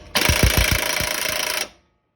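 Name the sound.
impact wrench on pinion nut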